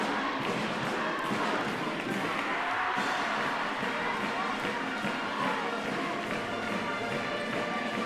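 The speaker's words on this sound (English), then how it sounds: "Really good crowd in here" A packed high school gym during an Ellinwood Eagles versus Sterling Black Bears basketball game, with a loud, steady crowd roar, scattered shouts and sneaker and ball thuds filling the whole stretch.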